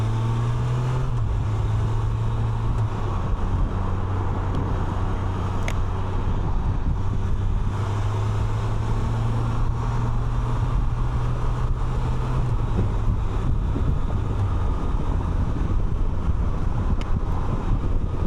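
A 2025 Can-Am Canyon three-wheeler heading onto a freeway, heard as a continuous, loud roar of wind buffeting the microphone over a steady low engine drone that shifts pitch slightly as it accelerates; no talking.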